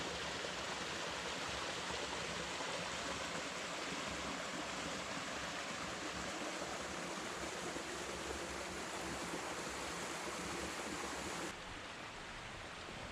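The Pemigewasset River rushes through Flume Gorge in a steady, dense roar of flowing water, constant and close with no voices, easing slightly near the end.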